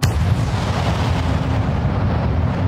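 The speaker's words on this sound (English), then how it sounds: "when I got to the explosion," A cinematic blast impact with a concussion effect: a sharp onset that settles straight into a loud, sustained low rumble lasting nearly three seconds, with no speech.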